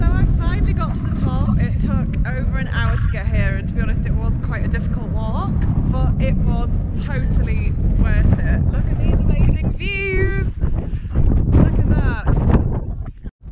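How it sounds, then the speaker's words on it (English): Strong wind buffets the microphone on the summit of Santa Ana Volcano in El Salvador, a loud continuous rumbling gust under a person talking throughout. "It's pretty windy up here."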